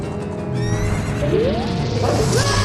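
Horse neighing in an Ocarina of Time randomizer final boss fight, a loud, close whinny rising and falling over game music and effects, with no talk.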